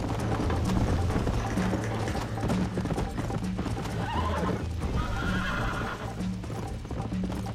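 Horse hooves clip-clop at a fast gallop in the western video game Red Dead Redemption, loud and close with a whinny. A low background tone runs underneath.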